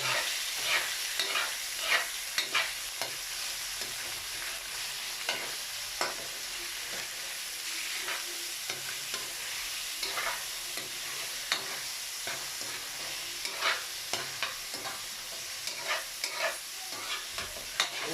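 Pork with sotanghon noodles and sayote being stirred and fried in a pan, a steady close sizzle broken by repeated scraping stir strokes, with no talking.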